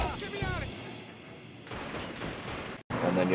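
Gunfire and heavy booms from the Mafia 3 video game, in a battle scene with smoke, with dense blasts and rumbling across the whole stretch and a brief dropout near the end; voices mix in.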